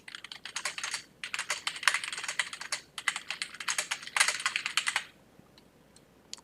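Rapid typing on a computer keyboard, close, crisp key clicks in quick bursts with short pauses for about five seconds, then stopping.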